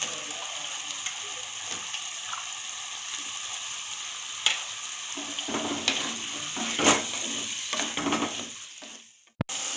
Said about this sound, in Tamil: வெங்காயம் தக்காளி வதங்கிச்சு. கத்திரிக்காய் சேர்த்துக்கிறேன்.